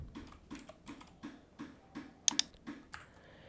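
Keys tapped on a computer keyboard while a domain name is entered, a steady run of light clicks roughly every half second with a couple of sharper clacks, close and alone.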